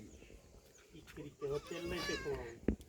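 Goats bleat nearby in wavering, drawn-out calls, several overlapping, with a short sharp knock near the end.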